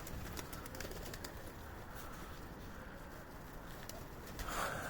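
Arab breed pigeons coo softly outdoors, the low calls faint and repeated under a steady background hiss.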